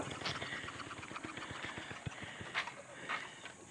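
A motorcycle engine runs close by on a steep road near a river and dam in Barangay Mabato, Maragondon, Cavite, giving a steady rumble with rapid low throbbing pulses and a few brighter bursts.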